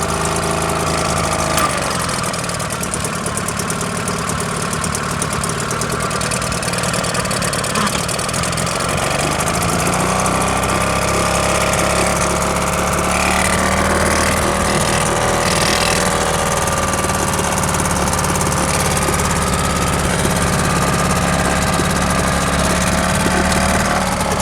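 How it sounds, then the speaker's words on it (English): A small sailing boat's petrol outboard engine idles close by with a steady, even drone. The engine note shifts slightly partway through, and speech is heard faintly over it. "We're just going to kill the engine"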